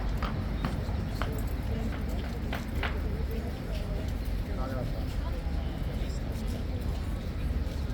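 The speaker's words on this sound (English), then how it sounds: "here comes Horsey again" A huge King's Guard horse's hooves clip-clop in an irregular rhythm as it approaches, under steady crowd murmur and chatter, with brief sharp knocks standing out.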